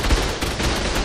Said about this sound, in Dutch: Laat me schieten met de kanon.